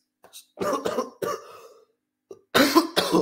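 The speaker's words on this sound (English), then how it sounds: "Coughing already." A few harsh coughs close by, a short burst followed by a pause and then two more forceful coughs.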